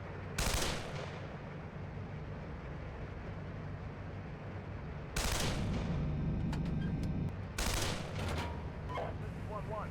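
Bursts of automatic gunfire and cannon fire in the Steel Beasts Pro PE tank simulator's winter forest battle, a loud burst near the start and more heavy volleys later, over a constant engine rumble with radio chatter.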